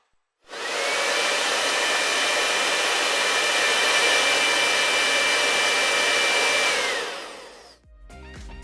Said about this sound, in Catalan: És un assecador de cabell!